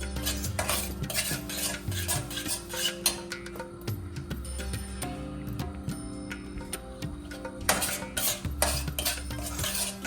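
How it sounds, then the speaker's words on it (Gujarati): Semolina is stirred in ghee in a pan for suji halwa, with close rhythmic metal scraping and clinks of a spoon against the pan over a faint sizzle and no speech. "હવે એને આપણે હલાવીએ છીએ બરાબર"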